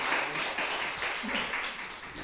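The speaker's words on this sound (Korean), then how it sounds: "박수하겠습니다." A church congregation applauds after a prayer, a dense, steady wash of many hands clapping at moderate distance, filling the whole moment without a break.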